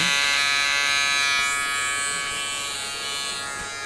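A small DC motor spins inside a homemade generator, giving off a steady, close, high-pitched electric whir that holds for a few seconds and fades slightly toward the end.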